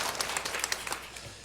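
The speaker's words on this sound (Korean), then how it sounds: "늘 열심히 하는 우리 성가대 격려 박수 한 번만 보내주실까요?" A church congregation at a Sunday service applauds the choir, a brisk burst of many hands clapping that is close and dense at first, then thins and fades within a second and a half.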